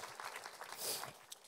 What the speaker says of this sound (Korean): 우리 박수 한번 했으면 좋겠습니다